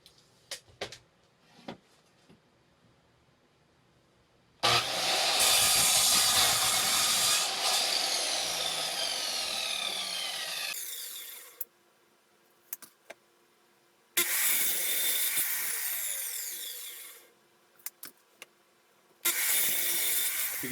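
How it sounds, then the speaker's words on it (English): A saw cutting 4 inches off a 2x4 board, two long loud rasping cuts separated by quiet pauses with light clicks and handling knocks, plus a short final burst. "So let's go ahead and cut 4 inches off this one piece right here."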